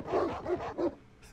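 Three quick barks in a row, loud and close, from a dog in the 8-bit noir game Rot Gut, followed by a short quiet tail.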